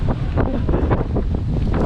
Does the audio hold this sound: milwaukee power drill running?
no